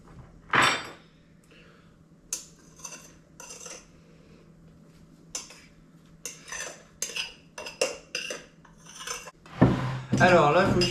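A utensil clinks and scrapes against a bowl while beaten egg whites are folded into a mixture in a home kitchen, irregular metallic taps close by, with a louder clatter and rustle near the end.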